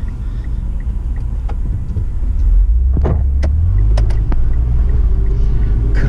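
A parked car idles on a roadside with its engine left running, a steady low rumble and throb close by that swells slightly partway through, with faint traffic sounds above it and no talking.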